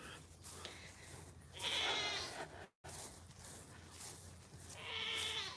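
Goats on a farm bleat loudly in two separate drawn-out cries, nearby and in the open, with no talk and steady low ambient noise in between.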